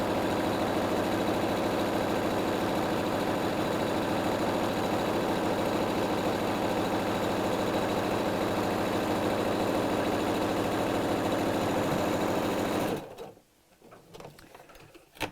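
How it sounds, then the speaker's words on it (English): A sewing machine stitches down the second side of a padded, diamond-smocked fabric tote bag using an even-feed foot, running in a loud continuous rapid whirr before stopping near the end, followed by faint handling noises. "just sew down the second side"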